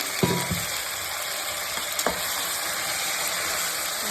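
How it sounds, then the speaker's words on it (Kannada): Vegetables frying in oil in a pan for vangi bath, an eggplant rice dish, with a steady broadband sizzle and a few short stirring knocks near the start. "ಈಗ ಇದು ಆಯಿಲಲ್ಲೂ ಫ್ರೈ ಆಗಬೇಕು."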